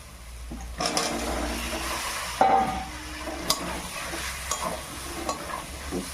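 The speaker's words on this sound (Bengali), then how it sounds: "সিদ্ধ করে রাখা আলুগুলো দিয়ে দেবো" Boiled potatoes drop into a hot frying pan with turmeric for a potato curry, sparking a burst of sizzling and some stirring scrapes that settle into a steady fry, close up.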